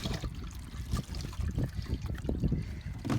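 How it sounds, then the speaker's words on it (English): Sink wastewater from dish washing trickling and splashing continuously nearby, with irregular gurgles and drips and a busy, fairly loud watery hiss throughout. "this is just the sink water."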